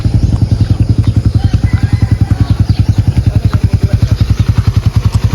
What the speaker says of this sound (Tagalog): Kaya pina-warm up ko lang po muna yung motor.